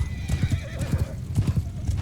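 Cavalry horses gallop in Mount & Blade II: Bannerlord during a castle battle. A dense, close rumble of hoofbeats pounds in quick rhythmic clusters, and a whinny rises midway.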